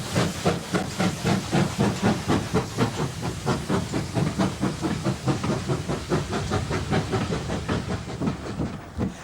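Steam locomotive number 2857 on the Severn Valley Railway hisses steam in loud, rhythmic pulsing chuffs that continue steadily throughout, close by.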